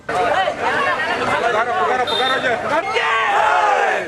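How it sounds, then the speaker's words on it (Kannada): A party procession for a Congress candidate's nomination in Mandya: a dense crowd of workers cheers, whoops and chants slogans, loud and continuous for the whole stretch, with many voices overlapping. "ಪಕ್ಷದ ಕಾರ್ಯಕರ್ತರ ಹರ್ಷೋದ್ಗಾರ ಜೈಕಾರದ ನಡುವೆ ಮೆರವಣಿಗೆ ಜನಸಾಗರದ ನಡುವೆ ಸಾಗಿತು"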